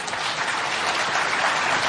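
Steady, dense applause from a large audience fills a business conference hall, loud and continuous with no voices over it.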